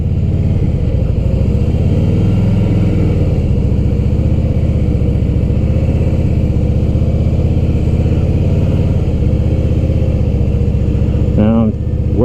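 A motorcycle creeps along in first gear during low-speed practice with the rear brake and clutch friction zone, its engine a close, steady, loud drone with small rises and dips in pitch.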